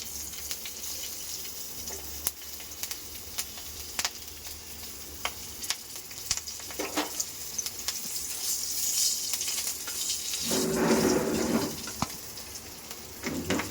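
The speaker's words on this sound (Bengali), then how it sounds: "এইবার তেলেতে এক একটা করে ফোড়ন দিয়ে দিচ্ছি।" Nigella seeds and green chillies sizzle in hot oil with a steady crackling hiss, dotted with sharp pops and swelling louder toward the end.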